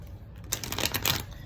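Tarot cards being shuffled, a short run of dense papery riffling and flicks lasting about a second, close and fairly clear.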